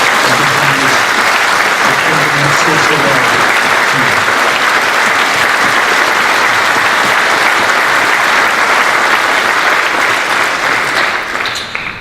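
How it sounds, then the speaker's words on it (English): A large indoor audience at a Great War remembrance service gives the cadets a dense, steady round of applause that holds for about twelve seconds before starting to thin at the end. "give a round of applause to our cadets"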